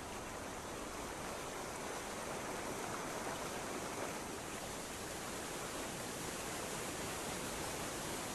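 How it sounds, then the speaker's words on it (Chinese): Water pouring over a calcified travertine wall at Huanglong in Sichuan, a faint, even, continuous rushing hiss heard from a distance with no voices. "奔涌的水流从堤埂上翻越而下，在钙华壁上形成了壮观的钙华瀑布"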